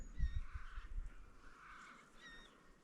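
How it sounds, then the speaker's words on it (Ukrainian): Several birds call in the distance, with harsh cawing notes and a few brief whistles, over a quiet riverside background with some low rumbling. "птахи вже співають, кричать, свистять"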